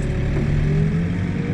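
A backhoe engine idles and runs steadily while digging footings, a low close diesel drone with a faint rising tone partway through, heard alone.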